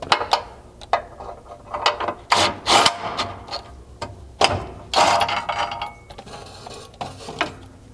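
A hand ratchet backs bolts out of a Bronco's gas tank skid plate. Close, crisp bursts of rapid clicking come in short, irregular runs separated by brief pauses.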